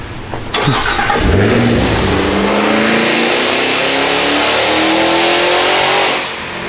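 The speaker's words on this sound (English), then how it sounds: "I didn't go full throttle" A big V8 engine in a Cadillac Escalade with true dual exhaust revs hard on a dyno and holds a loud, sustained roar, rising in pitch before easing off, close and dominant throughout.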